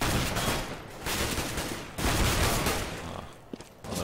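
Gunfire in Counter-Strike on de_dust2_se during a pro match, including MAG-7 shotgun shots, comes as loud dense volleys of bursts with brief pauses between them.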